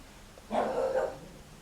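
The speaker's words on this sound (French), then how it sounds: "Et vous entendez mon chien aussi, également." A single short bark or yelp from a dog indoors, moderately loud and alone against a quiet room.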